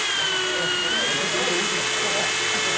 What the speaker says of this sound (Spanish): se está girando este taladro